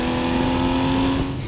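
A Porsche 911 Carrera 4S engine revs loud and close inside a tunnel, a sustained tonal roar that echoes off the walls for about a second and a half with no talk over it.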